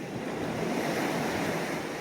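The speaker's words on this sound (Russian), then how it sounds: "Тихий океан перед нами." Pacific Ocean surf breaks on a beach in a steady, loud, broadband wash, with gusting wind buffeting the microphone throughout and no voices.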